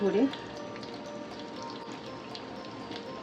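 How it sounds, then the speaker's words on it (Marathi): Ghee roast prawns with curry leaves fry in a pan, giving a steady, soft sizzle that runs throughout, with a brief voice at the start. "फ्राय होऊन देऊया थोड्या वेळसाठी, जास्त नाही."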